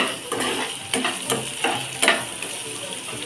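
Green beans and potato masala frying in a pan, a close crackling sizzle with repeated stirring scrapes and a few sharper spoon knocks against the pan.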